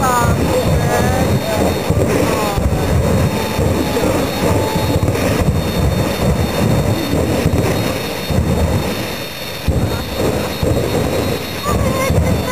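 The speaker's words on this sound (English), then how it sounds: "They like the afterburner." A jet-powered drag car at a race event blasts off with its afterburner, a loud, rough, sustained roar that fills the whole stretch, with excited voices in the crowd.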